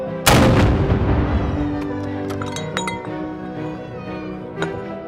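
A ceremonial gun salute at a liberation celebration in Het Gooi, the Netherlands: one loud blast opens, followed by ringing, clinking metallic echoes and a few smaller knocks as it dies away.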